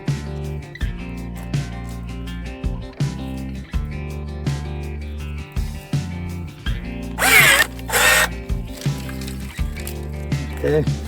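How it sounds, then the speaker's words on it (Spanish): Repeated crisp snips of pruning shears cutting branches on a plum tree, working upward from the lowest suckers, each cut a short clipped snap in an irregular rhythm, with a louder rustling burst midway while a person talks throughout. "vamos a empezar a cortar desde lo más abajo posible"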